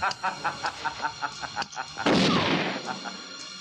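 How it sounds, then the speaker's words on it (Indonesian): A single loud gunshot from a 1990 Hong Kong film, a boss shooting a man in the head, bursts out abruptly after a stretch of faint rhythmic background noise, then decays slowly. "Kemudian datang bos besar dari penjahat itu dan langsung menembak kepala Paman Chang."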